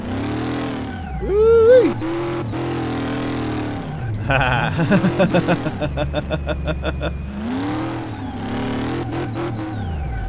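The engine of a 1932 Ford Roadster in the video game Car Mechanic Simulator 2018 revs repeatedly, rising and falling with a rapid stuttering burst in the middle, while someone talks and whoops over it.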